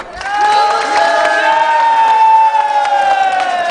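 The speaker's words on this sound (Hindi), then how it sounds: "आओ भाई, इसको एक दफा इसके लिए ताली बजा दो।" A loud rally crowd in Sharda, Azad Kashmir cheers with sustained, chant-like shouting that holds steady for several seconds.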